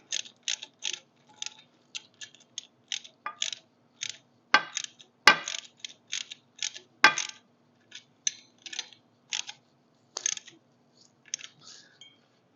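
A ratchet wrench tightens 9/16 bolts on a Pat's Easy Change quick hitch bar on a John Deere 1025R Cat 1 three-point hitch. Short, close bursts of crisp metallic clicking are separated by brief pauses, with no talking.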